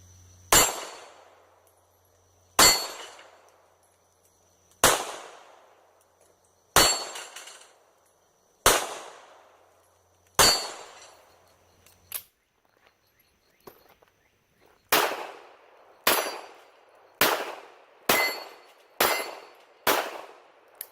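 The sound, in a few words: gunshots from a Ruger LCP pistol at the range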